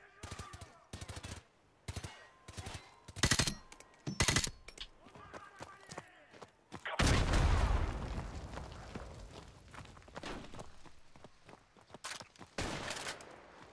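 Gunfire in the video game Call of Duty: Modern Warfare Remastered: sharp single shots and short bursts crack out near and far, followed by a heavy explosive boom and more scattered firing.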